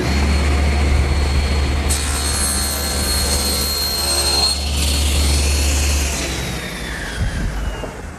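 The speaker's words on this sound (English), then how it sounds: "take the joiner and make one pass so that I have a perfectly straight and square edge" A jointer planing the edge of a wood panel for a Shaker washstand: a loud steady high-pitched machine whine with a steady low hum, the pitch shifting as the board passes over the cutterhead, with no talking.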